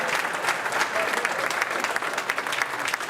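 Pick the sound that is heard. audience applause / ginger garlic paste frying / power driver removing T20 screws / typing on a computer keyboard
audience applause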